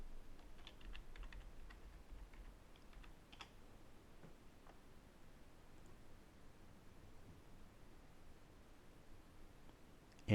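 A password being typed on a computer keyboard, with faint, quick clusters of key clicks over a quiet hiss and nobody speaking.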